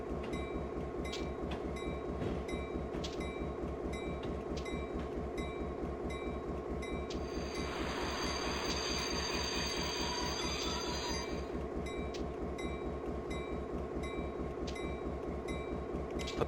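Freight train on the Stevens Pass Route in Train Simulator 2014, a steady rolling rumble of wheels on rail with a strong engine drone, a brief hissing burst in the middle and repeated clicking, with no voices.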